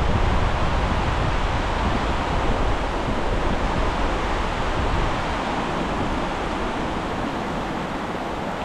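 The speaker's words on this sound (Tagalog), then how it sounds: "Lakas ng agos." A strong river current rushing past, a dense, steady roar of flowing water that fills the scene at close range and stays constant throughout, with no voices.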